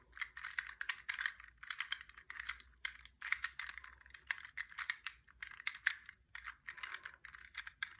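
Rapid plastic clicking and rattling in quick, irregular bursts as a 2x2 Rubik's cube is twisted over and over, close up and fairly quiet.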